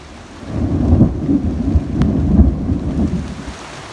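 A thunderstorm with heavy rain over a city garden: low rolling thunder swells after a quiet start and rumbles on under a steady downpour, loud and near, with no voices.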